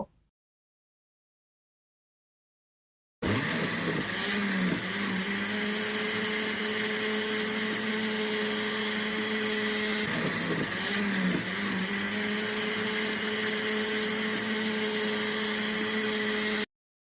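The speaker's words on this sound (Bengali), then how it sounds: "এখন জগের ঢাকনাটা লাগিয়ে ভালো করে ব্লিন্ড করে নিব" A countertop blender whirs watermelon into juice, starting abruptly after silence and holding a loud, steady motor drone for well over ten seconds, with a slight dip in pitch midway.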